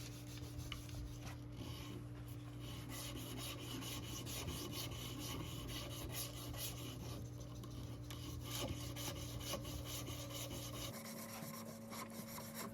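A belt sander grinds steadily against wood for charcuterie boards, a loud continuous raspy whir with a steady motor hum, shifting in tone near the end.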